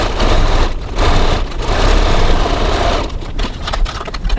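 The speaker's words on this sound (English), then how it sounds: "we're going to stitch the 2 sides of our card pockets" A sewing machine runs a steady stitch, length 2.4, along the sides of fabric card pockets for a hip cross-body bag, a loud continuous whirring hum with a short slowdown before it carries on.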